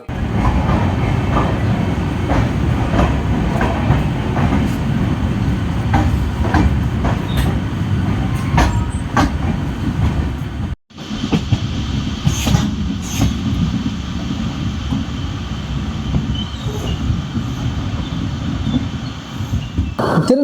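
Chennai to Kanyakumari weekly superfast express running on rails, a steady loud rumble with rhythmic clickety-clack of wheels over joints, briefly cutting out midway before the rolling noise resumes.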